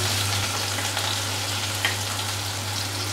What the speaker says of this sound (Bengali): তেল দিয়ে দিচ্ছি 2 টেবিল স্পুন। তার মধ্যে আমি এবারে দিয়ে দেবো একটু পেঁয়াজ